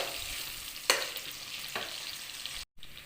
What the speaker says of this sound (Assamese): এয়া পিঁয়াজখিনি ভাজা হৈ গৈছে।